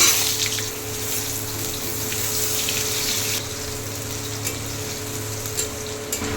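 Sliced potatoes tipped into hot oil already spiced with whole cumin, bay leaf, dry chilli, cardamom, clove and cinnamon, sizzling and frying in a steady close hiss that fills the whole stretch, with a slight dip midway and no voices.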